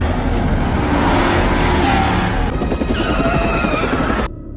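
A film car chase pursued by military vehicles and helicopters: dense, loud engine and rotor noise with rumbling traffic and sharp bursts throughout, cutting off abruptly near the end.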